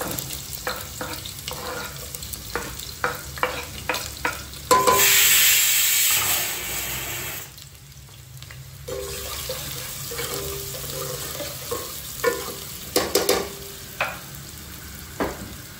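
Chopped onion hits a hot pan and fries, with clattering spatula strokes stirring it around. A burst of running tap water is heard partway through, then the stirring resumes. All of it is close.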